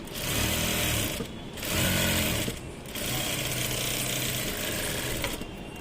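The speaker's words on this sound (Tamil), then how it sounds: "இதுக்கு மேலே ஒரு படிமான தையல் போடணும்" A sewing machine stitches a blouse in steady mechanical bursts, running in three or four close, loud runs separated by brief pauses.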